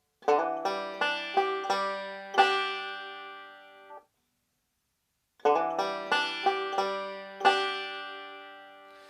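Plucked banjo notes from "Cumberland Gap" ring out in quick forward-roll bursts with a fast sixteenth-note hammer-on, each phrase ending in a sustained decay, followed by a pause and a repeat of the same pattern.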